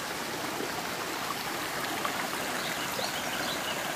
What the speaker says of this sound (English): What is this that we're looking at here? A creek.